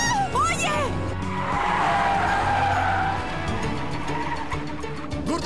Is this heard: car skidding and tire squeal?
yes